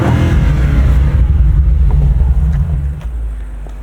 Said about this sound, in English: We'll give you guys a quick rev.